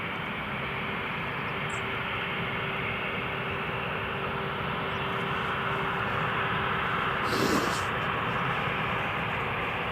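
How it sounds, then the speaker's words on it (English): A TUI Thomson jet airliner prepares to depart at Newcastle Airport, a broad, steady engine roar holding constant from start to end with a faint tonal hum and a brief swell near the end. "Got a Thompson just about to depart"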